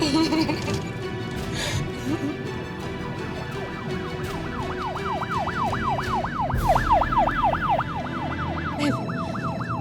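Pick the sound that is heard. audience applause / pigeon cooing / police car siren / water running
police car siren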